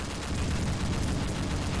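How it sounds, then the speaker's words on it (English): Dense, continuous gunfire in the video game Blackhawk Rescue Mission 5 with heavy low rumble, rapid overlapping shots filling the whole moment at steady loudness, like a chaotic battle. "the amount of gunfire is ridiculous!"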